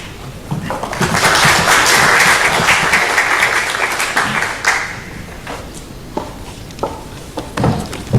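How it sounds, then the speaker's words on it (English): An audience claps for a speaker at a conference session on financing climate-resilient, socially inclusive water and sanitation cost recovery, a full burst of applause that swells, holds for several seconds, then thins into scattered claps. "Another round of applause for Sabiha, please"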